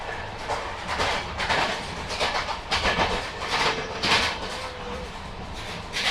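A moving passenger train running from Bhopal to Kanyakumari, heard from inside as a steady rumble with rhythmic clacks and rattling bursts, no voices.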